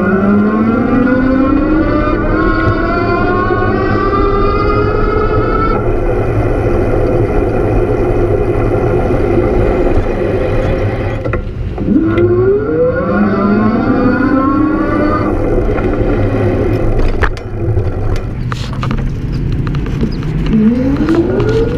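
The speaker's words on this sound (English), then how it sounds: "hopefully you can see the motor, hear it a little bit" The electric hub motor of a 2017 Electric Bike Company Model S step-through whines loudly and up close, its pitch rising as it speeds up, then dropping and climbing again several times over a constant background hum.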